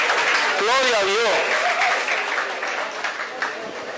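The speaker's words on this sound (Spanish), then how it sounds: "Dale un aplauso al Señor, aleluya." Church congregation applauding during a worship service, a broad wash of clapping with a voice rising over it early on, then the applause continuing and gradually thinning.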